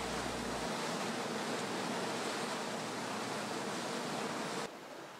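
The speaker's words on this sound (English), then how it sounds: "turbulence still roils the water in an entrance just 50 yards wide" Loud, steady rushing of turbulent seawater churning through a narrow 50-yard-wide entrance in Southeast Alaska fills the clip without pause, easing slightly near the end.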